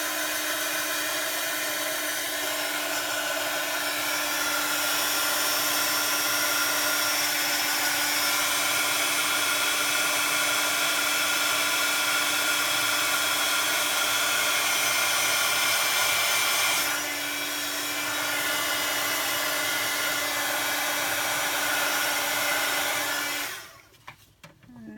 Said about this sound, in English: Just going to use my heat gun.